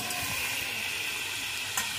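Steady sizzle of small charapona fish frying in a pan for a home-style Bengali fish curry, a continuous even hiss with a brief sharper crackle near the end, no voices.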